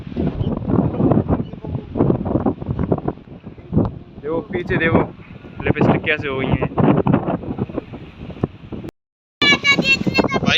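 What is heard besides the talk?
rain with strong wind in village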